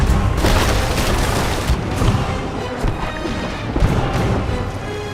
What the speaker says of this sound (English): So ready the guns, and let battle commence!